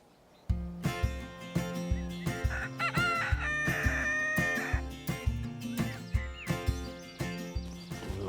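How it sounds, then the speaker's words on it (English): Backyard chickens cluck in rapid repeated bursts close by while a rooster crows loudly several times over them, with no talk. "Come on, show me your chickens."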